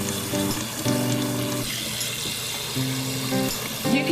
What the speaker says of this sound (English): We're going to cover this good with water.